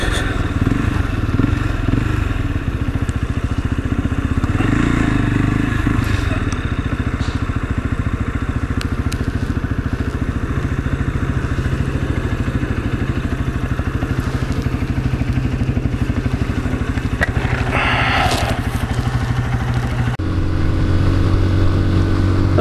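A Lexmoto Assault motorcycle is ridden on the road, its engine droning steadily and close, with wind rush and a shift in engine tone near the end.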